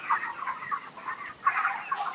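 Broiler chickens on a poultry farm cluck continuously in a busy, overlapping chorus that rises and falls in short bursts, fairly close and moderately loud, with no talking.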